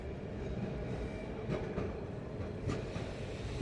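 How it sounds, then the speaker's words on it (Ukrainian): A tram rolls past on a street in Milan, a faint steady rumble of wheels on rails with a few soft clacks and a squeal at the end, heard from a moderate distance without talk. "Який цікавий тут трамвай, слухайте"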